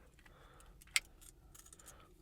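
Car keys for a 2017 DS Automobiles DS 3 PureTech Performance Line, one a bladed key, jangle softly with a single sharp metallic clink midway, then light rattling before quiet.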